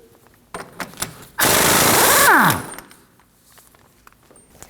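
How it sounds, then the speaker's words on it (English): Impact wrench or power tool loosening a 32mm axle nut on a 2003-2006 Subaru Baja 2.5L H4, a loud steady burst of about a second and a half with a falling whine at the end, framed by quieter shop clatter. "We'll remove the axle nut with a 32mm socket."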